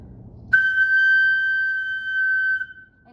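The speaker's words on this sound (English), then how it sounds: "I'm blowing across the flute." A flute blown across its embouchure hole sounds one sustained, steady pure tone for about two seconds and then stops. It rings clear and close, with faint room noise before it starts.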